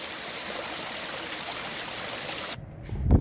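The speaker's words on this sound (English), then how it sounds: "Goes straight down. It's a waterfall." A homestead waterfall putting out about a million gallons a day drops straight down, giving a steady, loud broadband rush that cuts off abruptly near the end, followed by wind buffeting, with no talking.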